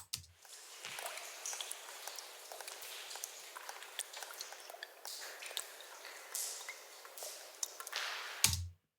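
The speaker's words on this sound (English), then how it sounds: "there was some water dripping action in the background that sounds like this" Faint, irregular water drips plink quietly against a soft background hiss, with scattered small splashes and squishy wet sounds throughout.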